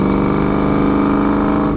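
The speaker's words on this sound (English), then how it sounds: "Has a hell of an exhaust note to it" A 1989 Ford Mustang GT with a 5.0-liter V8, automatic transmission and a Flowmaster-style muffler idles with a deep, steady, loud exhaust rumble close by, unbroken throughout.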